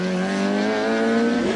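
A Peugeot 306 GTI rally car on a Carlow stage roars past at high revs, a loud, steady engine note holding through the whole short moment.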